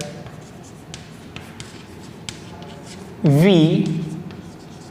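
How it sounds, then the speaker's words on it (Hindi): A pen scratches out a definition, soft irregular strokes and taps running close and quiet for several seconds before a person begins talking over them. "मैंने यहां पे लिखता हूं डिफिनेशन"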